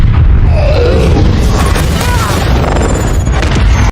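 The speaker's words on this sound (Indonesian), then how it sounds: "Akhirnya bom itu pun meledak yang menghancurkan jurang dan helikopter" A loud, rumbling bomb explosion destroying a ravine and a helicopter, with heavy low booming and crackling debris that sustains for several seconds before cutting off.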